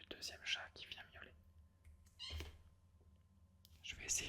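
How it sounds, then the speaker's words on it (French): A second house cat meows a few times close by, faint and intermittent beneath soft whispered reading in a quiet room. "il y a le deuxième chat qui vient miauler"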